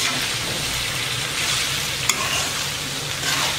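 Cauliflower cooking in a pan gives a dense, continuous sizzle and hiss as it is stirred now and then, with one brief clink partway through.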